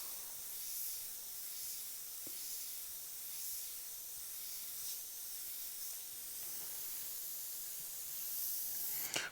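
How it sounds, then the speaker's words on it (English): Airbrush spraying black and grey paint onto a leather saddlebag, a soft continuous hiss close by, steady with slight swells and a brief louder burst at the end. "Clean up some of the overspray on this back side."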